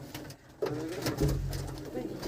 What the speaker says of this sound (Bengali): এটা সব মেল পায়রা আছে